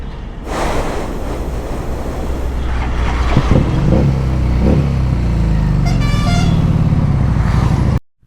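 Heavy road traffic, heard from a Harley-Davidson Street 750 held up in a jam: a loud, steady roar of engines with several car horns honking, one longer blast near the end, and no talking.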